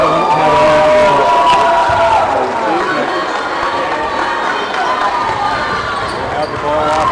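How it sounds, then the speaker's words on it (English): Home crowd at a Stayton high school basketball game, noise rising from the far side of the gym, a steady loud din of voices and shouts with sneaker squeaks and ball bounces throughout. "Stayton crowd making some noise on the far side"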